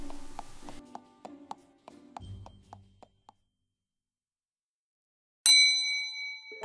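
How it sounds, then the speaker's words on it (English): A bell on a bakery entrance door rings once with a bright, clear strike and a ringing tail, following a stretch of soft tapping and clinking, then quiet. "The bell from the door entrance rings when Crimson arrives."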